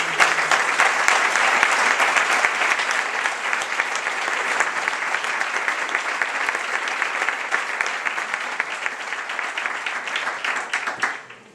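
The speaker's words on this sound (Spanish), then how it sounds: "os invito a un aplauso fuerte para estos chavales" A loud, dense round of applause from families at a youth sports school presentation holds steady for about eleven seconds, then fades out abruptly at the end.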